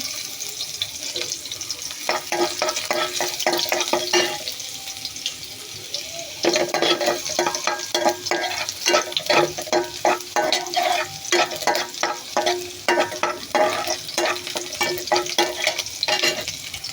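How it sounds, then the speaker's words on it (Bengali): Garlic and pumpkin greens fry in oil in a pan, giving a steady close sizzle with a run of quick stirring scrapes and clatters, loud and continuous, with no voices. "পরিমাণ মতো তেল দিয়ে দিচ্ছি। রসুন দিয়ে দিচ্ছি।"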